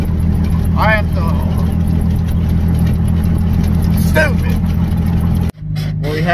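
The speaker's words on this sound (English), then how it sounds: "What we have here is just some grinding gears." A worn-out car runs loud and close with a steady rumbling drone and rough mechanical grinding, talk heard over it, before the noise abruptly cuts off near the end.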